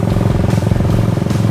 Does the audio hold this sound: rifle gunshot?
no